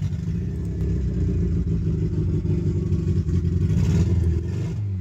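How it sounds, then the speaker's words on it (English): Turbocharged built Toyota Celica engine at its first start, held running by steady throttle blips; a loud, close, rough low rumble with clattery mechanical noise throughout and a slight rise in revs near the end. "What I was doing in the following clip is basically just pressing the accelerator to keep it running."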